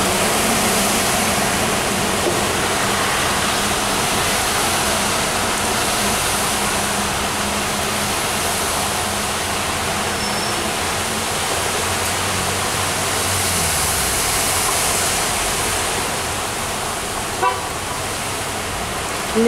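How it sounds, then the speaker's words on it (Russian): Floodwater rushing down a city road in Yerevan after a sudden summer hailstorm, a loud continuous broadband roar with low rumbles of passing cars and a brief tap near the end. "Дорога превратилась в реку."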